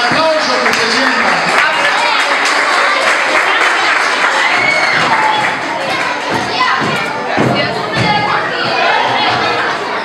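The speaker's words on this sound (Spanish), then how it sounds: "El aplauso que se sienta." Applause from parents and children at a school Mother's Day party, loud clapping mixed with children's shouts, chatter and occasional thuds in a lively, crowded room, with voices talking over it.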